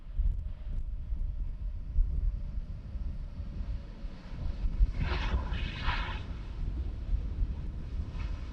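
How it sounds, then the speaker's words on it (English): Wind blows steadily at Amsterdam Schiphol Airport with low rumbling buffeting on the microphone, while a distant aircraft engine hums faintly beneath. A brief gust-like swell comes around the midpoint. "There's a bit of wind, as you probably can tell by the way the aircrafts are maneuvering."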